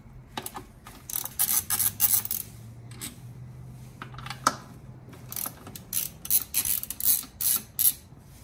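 A hand ratchet loosens bolts on the engine of a 2015+ Subaru STI during an air-oil separator install, giving quick clicking runs of the pawl in several bursts with short pauses between them and no talk.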